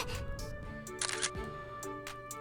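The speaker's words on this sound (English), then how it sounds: "Just then the sound of a camera shutter came so as to block my words." A camera shutter clicks once at close range, a sharp bright burst cutting across a quiet background with faint musical tones.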